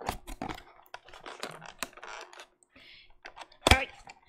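Hands opening a small cardboard box that is getting crumpled from repeated use, giving a run of light clicks, crinkles and taps with one louder snap near the end, close and fairly quiet.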